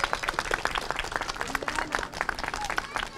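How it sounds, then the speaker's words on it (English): Crowd applause fills a township Ramadan lighting ceremony in East Brunswick, with many hands clapping in a dense, lively patter that holds steady throughout and has brief scattered bumps within it. "So please give yourselves a round of applause."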